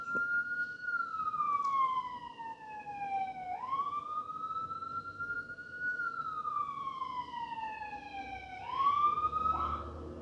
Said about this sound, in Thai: ที่อเมริกานี่เขาจะเปิดหวอโดยเฉพาะ ใกล้ส่วนของสี่แยกนะบ้านนี้มันอยู่ตรงสี่แยกพอดี เพราะฉะนั้น รถหวอเขาจะเปิด